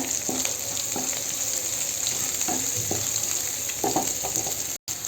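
Prawns frying in oil with ground cumin, ginger and garlic paste, a continuous close sizzle broken by repeated spatula scrapes and stirring knocks, with a brief drop-out near the end.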